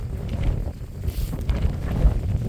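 Steady wind buffeting the microphone on an exposed moorland edge, Kinder North Edge in the Peak District, a continuous low rumbling roar with gusty swells and no voices.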